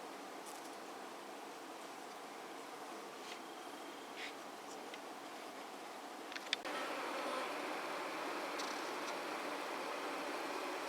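Honeybees at a hive on the third day of a Thymovar treatment make a steady, quiet hum that holds evenly throughout, with a few brief faint ticks and no voices.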